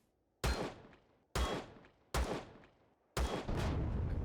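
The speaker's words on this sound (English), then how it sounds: "The reason I'm using the pistol is that the pistol isn't one of my favourite weapons" Four loud pistol shots fired in the sci-fi survival game Empyrion Galactic Survival, spaced about a second apart, each a sharp crack with a decaying tail, the last one trailing into lingering rumble.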